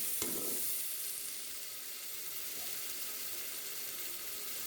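Ground ginger and garlic sizzle in refined oil as mutton dalcha begins cooking, a steady bright hiss with a brief splash of crackle at the start, close and continuous and with no talk.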